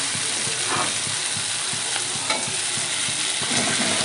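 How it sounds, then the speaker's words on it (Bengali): Potatoes and young jackfruit stir-fried with spices for a Bengali echor chingri dish, a steady close sizzle overlaid by rhythmic spatula scrapes and taps roughly every half second. "ভালো করে কষিয়ে নেবো মশলার সাথে"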